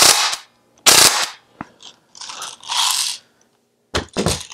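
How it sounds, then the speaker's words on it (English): An Umarex Steel Force CO2 BB gun fires a six-shot burst on full auto, sharp snapping shots close to the mic with mechanical clatter between bursts, alone with no voices. "If you want to go full auto, go ahead and switch the selector to the 6-shot burst."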